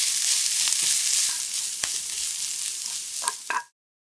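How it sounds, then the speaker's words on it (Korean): Meat and sliced onions stir-fry in a pan, giving a steady close sizzle with occasional utensil scrapes before the sound cuts off abruptly near the end. "고기가 노릇하게 색깔이 나기 시작하면 썰어놓은 양파를 넣고 투명해질 때까지 볶아줍니다"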